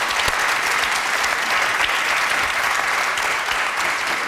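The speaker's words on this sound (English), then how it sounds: "You were applauding him." A studio audience on a televised political debate programme breaks into loud, steady applause, a dense wash of clapping that holds evenly throughout with no talk over it.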